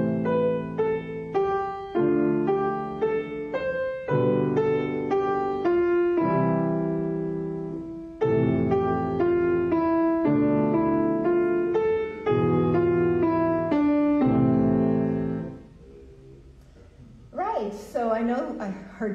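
A jazz standard is played straight in strict rhythm without swing, with steady chords under a simple melody for about fifteen seconds before a voice begins talking.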